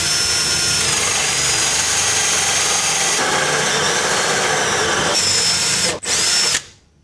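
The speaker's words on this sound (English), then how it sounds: "Okay, now we'll come across to the other side and drill the other half out." A power drill bores a crossbore through a door for a lock, a loud continuous high-pitched whine running steadily for several seconds before briefly cutting out and stopping.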